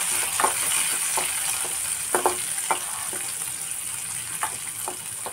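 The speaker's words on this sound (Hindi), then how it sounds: "इसे भी थोड़ी देर के लिए भून लेती हूँ अच्छे से।" Finely chopped bell pepper and onion fry in a pan with a steady, close sizzle, broken by occasional clicks and scrapes of a spatula stirring them.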